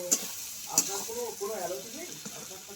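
A pan of banana flower and prawn curry sizzles steadily as ghee is stirred through it, with two sharp clicks of the spoon against the pan near the start. Faint voice-like sounds rise briefly in the middle.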